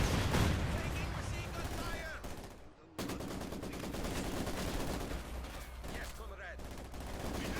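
Mortar fire and other battle sounds from a Company of Heroes 2 1v1 match form a dense, continuous barrage of explosions and gunfire, with a commentator talking over them.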